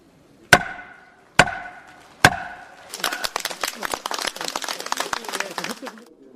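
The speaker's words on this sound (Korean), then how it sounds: "드디어 의사봉 소리가 울려 퍼집니다" A gavel strikes three times, sharp and ringing, at a plenary session of the National Assembly. Scattered clapping follows, quickly swelling into applause.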